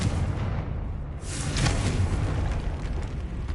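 A Confringo fire spell blast in Hogwarts Legacy, a loud whooshing burst over dense rumbling game noise that swells and lingers without a sharp peak.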